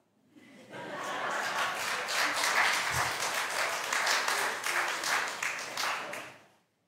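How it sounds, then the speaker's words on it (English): Congregation clapping together during a Sunday church worship service at Immanuel UCC, a steady wash of many hands sustained for several seconds at even loudness before fading out. "You can clap."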